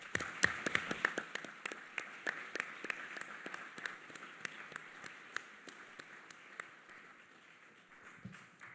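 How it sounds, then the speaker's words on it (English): Scattered clapping from a conference audience at an opening ceremony, sounding as sharp separate claps rather than a dense ovation, fairly faint and thinning out toward the end. "A big round of applause once again,"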